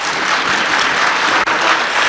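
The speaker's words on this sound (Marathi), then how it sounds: "त्यांच्यासाठी जोरदार टाळ्या वाजवा" Loud, dense applause from an audience at a state-level abacus class award ceremony in Sangamner, steady throughout with one momentary dip.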